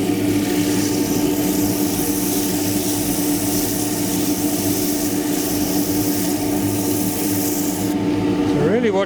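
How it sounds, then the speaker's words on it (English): Wood being sanded on a lathe while turning a tray, a steady close rasping rub running the whole time with a constant motor hum beneath. "even pressure when you're sanding, rather than jabbing at it"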